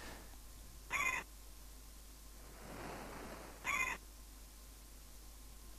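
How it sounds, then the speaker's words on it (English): Two shrill, repeated bird calls from the Amiga game Hunter ring out a few seconds apart over a quiet electronic background hiss, with a soft rushing swell between them. "God, them birds get annoying."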